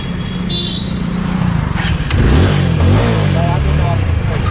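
A Yamaha Fazer V2 motorcycle rides along with a steady low engine drone and a brief rise in revs midway, while voices talk over it.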